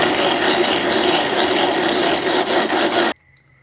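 Rough-faced granite being ground flat by hand with an abrasive stone, a loud, steady rasping scrape that runs continuously for about three seconds and then stops abruptly, leaving near silence.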